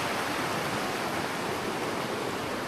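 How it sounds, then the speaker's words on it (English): A creek along a backcountry trail flows in a steady, full rushing wash of water, close and constant, with no voices. "We keep following the creek."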